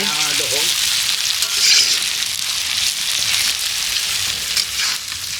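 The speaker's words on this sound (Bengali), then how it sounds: "হ্যাঁ, এবার একটু ভাজা হোক এরমভাবে" Food frying in hot oil on a wood-fired stove, a loud, steady sizzle and crackle close by that holds throughout, with a brief bit of talk at the start.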